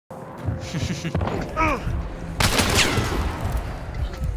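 Gunshots in the video game Hunt: Showdown, a sharp loud crack followed by echoing rumble, with game ambience and a voice talking underneath.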